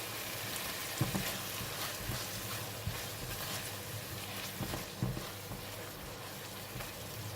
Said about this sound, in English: Put in all the salt and the sugar.